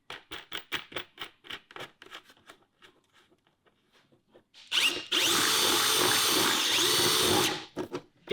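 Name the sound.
power drill driving tech screws into a bucket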